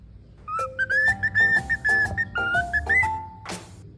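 A male cockatiel whistles a clear, warbling melody of rising and falling notes, close and bright, ending with a short noisy squawk.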